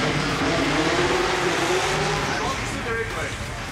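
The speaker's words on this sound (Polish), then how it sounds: "było słychać, że Wiesiek odpuścił gaz" Drift car engine at a drift show competition, a loud sustained roar with shifting pitch as the throttle is worked, then easing off near the end.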